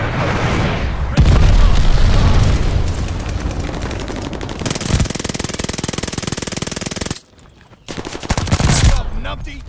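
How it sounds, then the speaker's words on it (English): Rapid gunfire and heavy booms from glide bomb explosions in Call of Duty: Vanguard multiplayer, a loud, dense barrage of shots and blasts with a short lull before the firing resumes. "Enemy glide bomb incoming."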